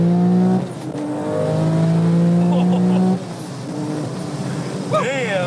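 A 1200HP manual Porsche 911 Turbo AWD accelerates hard, its engine note climbing in loud rising sweeps through gear changes, with a brief tire-like chirp near the end.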